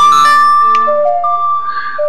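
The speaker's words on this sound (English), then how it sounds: "He's playing the Song of Storms," Song of Storms played as a clear ocarina-like melody in Zelda: Ocarina of Time, a sequence of sustained tonal notes stepping between pitches over a quiet background, alone with no talking.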